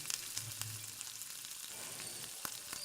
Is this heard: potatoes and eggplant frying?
yes